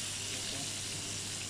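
Pieces of fried chicken, made in the style of Jollibee chicken, turn in hot oil and sizzle with a dense, even hiss that carries on steadily and close-up.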